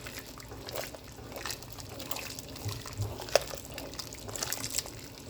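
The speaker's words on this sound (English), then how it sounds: "stir it in till there is no lump." Cornmeal being stirred into water in a pot for turn cornmeal, with soft wet sloshing and scraping strokes repeated at an irregular pace, close and moderately quiet.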